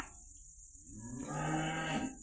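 A single cow moos in a free-stall cattle shed, one fairly faint low drawn-out call that begins after a moment of quiet, with no talk over it.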